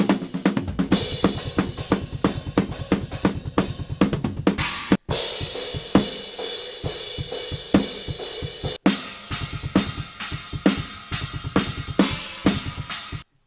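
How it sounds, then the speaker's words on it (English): Unprocessed drum overheads in a metal mix pick up crash, ride, china and hi-hat cymbals washing over fast, tightly repeated kick and snare hits, with brief stops between loud busy passages and no voices. "nice variation with some crash rides, some shinas, and some hi-hats"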